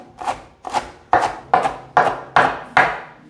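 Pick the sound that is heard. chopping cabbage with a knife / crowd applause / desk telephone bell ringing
chopping cabbage with a knife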